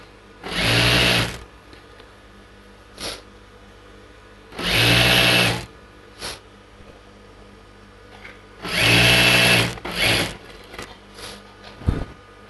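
An electric sewing machine stitches a strip onto a churidar pant in three loud whirring bursts of about a second each, separated by quiet pauses with small clicks and fabric handling.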